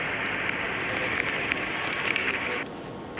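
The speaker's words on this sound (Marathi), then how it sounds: "पाऊस पडत आहे आणि पाऊस पण येतो" Steady rain pours down in a Konkan village on a May morning, a dense continuous hiss with scattered brighter drop ticks, fairly loud and unbroken, easing slightly near the end.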